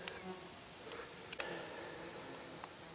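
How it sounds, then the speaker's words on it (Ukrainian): Bees forage among sparse, multicoloured meadow flowers, a faint thin buzz drifting close by in a quiet outdoor setting, with a few soft ticks and clicks. "скрізь бджоли не густо."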